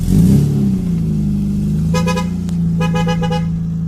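A Ford XR3i cabriolet starts and idles, a loud close engine catching into a steady hum with a couple of brief horn-like toots over it.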